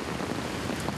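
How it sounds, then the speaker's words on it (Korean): Heavy rain and wind in a tropical banana-growing area give a dense, steady hiss of downpour and gusts, loud and continuous with no pauses. "빗방울이 하나둘 떨어지더니 점점 더 비바람이 거세지기 시작하는데요"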